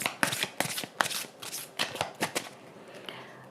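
A deck of oracle cards is shuffled by hand, giving quiet, irregular riffling flutters and soft slaps spaced through the moment.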